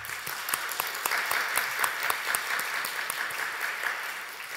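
A church congregation at a year-end revival service claps steadily, a dense wash of many hands with sharp individual claps standing out, continuing evenly with no voices.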